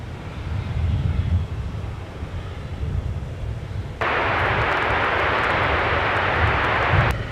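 At Minneapolis–St. Paul Airport a jet airliner takes off, its engines roaring low and steady. Partway through a broader, louder roar cuts in and holds, with wind buffeting the nearby microphone.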